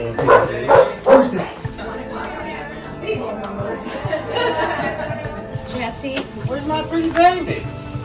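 Small dog yipping and barking in short bursts at a family baby shower gathering, with people chatting close by.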